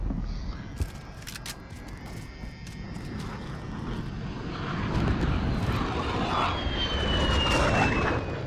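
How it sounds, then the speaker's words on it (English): Aircraft engine drone from a VTOL gunship circling overhead during a hardcore Domination match on Arklov Peak in Call of Duty: Modern Warfare (2019), a steady broad roar swelling louder toward the end, with scattered sharp game clicks near the start. "Friendly VTOL on station for Overwatch."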